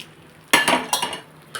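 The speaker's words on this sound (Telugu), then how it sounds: "పులిహోర అన్నంలో పోపు వేసేస్తాను" Hot tempering is poured into tamarind rice (pulihora) in a home kitchen. After a quiet start comes a burst of sizzling, then metal clinks of a spoon on the vessel and a last clatter, loud and close.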